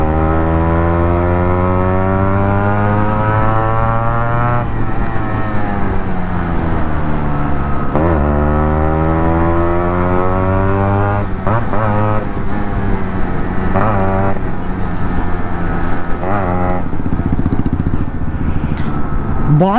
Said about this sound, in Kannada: ಬಾಯ್ಸ್ಗೆ ಒಂದ್ಸರಿ ಹಿಂಗೆ ರೈಸ್ ಮಾಡಿದ್ರೆ ಸಾಕು, ಚೆಕ್ ಅಂತ ತಿರುಗಿ ನೋಡ್ತಾರೆ ಗಾಡಿನ